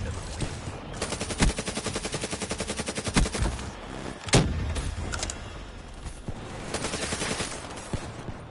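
Rapid automatic gunfire from a Black Ops 3 deathmatch, including a Peacekeeper-style gun, comes in repeated loud bursts with sharper single shots and impacts between them.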